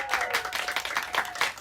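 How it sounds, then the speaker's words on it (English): A short burst of audience applause at a book discussion event, many hands clapping at moderate volume in a brief, busy patter. "Round of applause."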